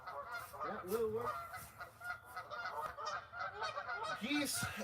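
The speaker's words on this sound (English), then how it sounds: "Geese everywhere" A flock of geese honking continuously nearby at a fishing spot, overlapping nasal calls rising and falling in a busy chorus with no pauses.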